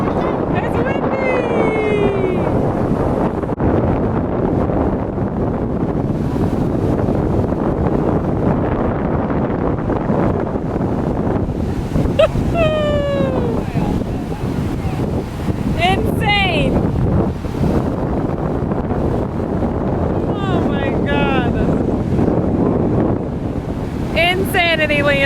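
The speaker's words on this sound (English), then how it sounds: "It's windy." Gusty wind at a beach buffets the microphone over a steady roar like surf, with people talking and calling out intermittently.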